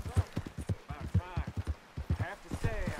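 Horse hooves clip-clopping at a steady trot, close and rhythmic, with a voice speaking over the hoofbeats, in the video game Red Dead Redemption.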